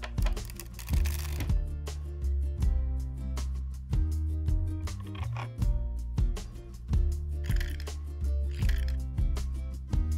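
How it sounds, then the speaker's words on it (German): NOVUS B 2200 heavy-duty block punch working through a stack of paper, giving a steady series of dull thumps and sliding clicks over a low, rhythmic background of music. "Sie legen einfach den Papierstapel ein, verschieben den Tisch zu einer Seite, justieren, lochen und schieben den Tisch zur anderen Seite, um zu lochen."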